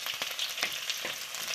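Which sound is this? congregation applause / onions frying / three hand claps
onions frying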